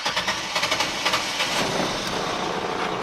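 A GMC engine idles after starting, following fuel filter and MAP sensor maintenance. It makes a steady, fairly quiet mechanical rumble with a light ticking and rattling texture, heard close with no voices.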